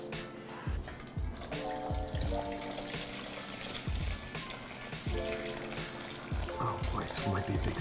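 Liquid splashes and dribbles in a kitchen while a dish of avgolemono is cooked, several short wet bursts and trickles scattered over the span, fairly faint, with clatter and brief voices around them.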